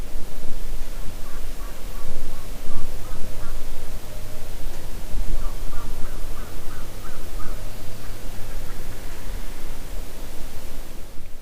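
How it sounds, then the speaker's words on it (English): A wild turkey hen yelps in a stretch of public-land woods, a series of short, faint, distant calls rising over steady wind-like background hiss. "we've got a hen yelping over here in these woods"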